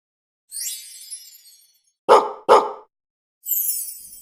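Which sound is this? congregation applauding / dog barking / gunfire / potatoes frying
dog barking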